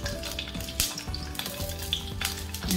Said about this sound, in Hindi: 2 मिनट तक इसे हल्का फ्राई कर लेंगे